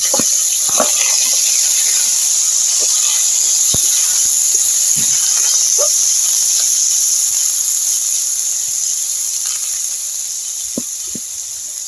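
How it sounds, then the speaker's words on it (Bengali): Chopped onion and green chilies fry in hot oil in a wok, giving a steady, close hiss with scattered small pops and crackles that eases slightly toward the end. "পেঁয়াজ আর কাঁচা লঙ্কাটা ভালো করে ভেজে নেব"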